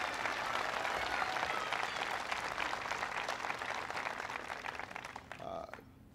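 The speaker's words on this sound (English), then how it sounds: "Please give him a big round of applause." An audience at a President Obama event applauds: dense, sustained clapping from a large crowd that stays loud for several seconds, then thins and fades near the end.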